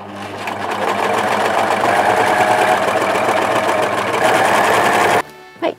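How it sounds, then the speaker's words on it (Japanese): Overlock sewing machine zigzag stitching a seam with white fabric and navy thread, running as a steady, fast mechanical whir for about five seconds before stopping, followed by a brief clunk. "ここを1センチの縫い代で縫ってジグザグミシンかけてかけます。"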